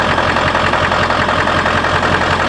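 A van engine with a 2010 front end on a 1995 body runs at a steady idle, loud and close, a constant low rumble with faint rhythmic knocking and no talk.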